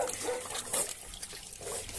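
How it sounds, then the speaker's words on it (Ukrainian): Piglets grunt and snuffle close by while feeding on boiled potatoes and drinking water from a bucket, with wet slurping and sloshing sounds mixed in. "Ось так наші поросятки їдять."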